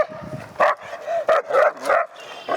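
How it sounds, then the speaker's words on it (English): A leash-reactive dog barks in a string of loud, close, sharp barks and yips, several in quick succession with brief gaps, during a training session. "as soon as this dog passes by"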